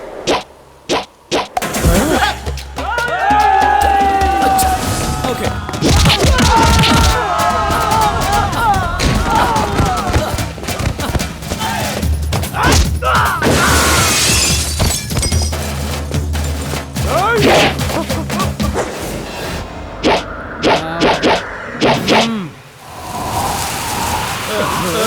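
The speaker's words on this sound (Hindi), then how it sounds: "भाई बाहर कोई अपने आदमियों को उड़ा उड़ा के मार रहा है।" Punches, thuds and whacks ring out in a chaotic movie brawl as men are beaten and thrown around, loud and dense with music and shouting voices mixed in.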